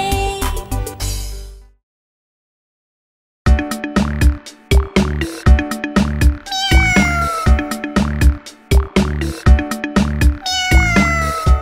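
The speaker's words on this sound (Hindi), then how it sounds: "बिल्ली" Repeated cat meows in a Hindi children's rhyme, loud and close, coming in quick bursts after a short silence, with bright pitched cries sliding up and down over a steady backing.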